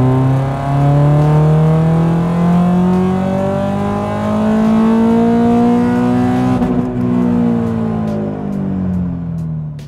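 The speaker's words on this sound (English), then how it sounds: "foot all the way to the floor, and I'm going to carry it all the way to about the rev limiter or just before." Car engine pulled at full throttle toward the rev limiter, loud and close, with the pitch climbing steadily before it cuts off abruptly near the end.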